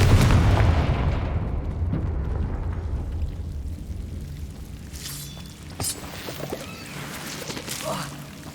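In the Hogwarts Legacy video game, the Confringo explosive spell goes off as a loud, deep booming blast that rumbles and fades over several seconds, followed by lighter crackling spell effects.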